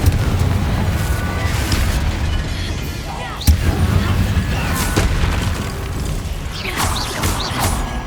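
Spell explosions from the Confringo curse in the Hogwarts Legacy video game, a sharp burst near the middle over a dense, continuous rumble of game combat noise.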